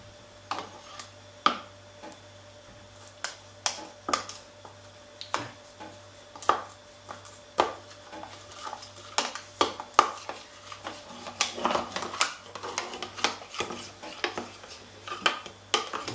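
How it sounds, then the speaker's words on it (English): A mixture for homemade cheese whisked in a bowl, heard as quick irregular clinks and taps of a whisk or spoon against the side, close and fairly loud, growing busier toward the end with no talk. "Now all you need to do is whisk."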